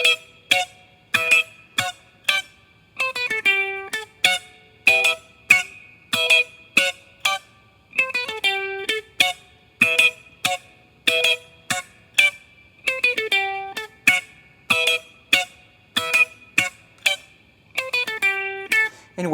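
Clean funk guitar riff, with high melodic lines built on fourths that repeat and descend, played as short choppy bursts that separate each phrase. The guitar plays alone with no talking.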